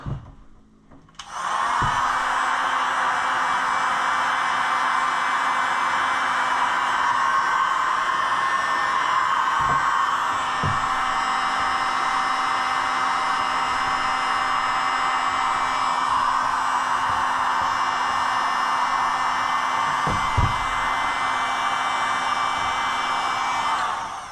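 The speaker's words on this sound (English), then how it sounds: "just make sure you keep that heat gun moving" A heat gun runs steadily at close range while drying a part on a Kawasaki KLX110 pit bike build, a continuous loud airy whoosh with a low hum, starting after a short pause and holding for the whole stretch.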